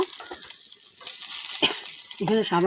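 Ginger garlic paste sizzles and spits in a hot pan, a steady hiss broken by stirring scrapes, with a voice speaking briefly near the end.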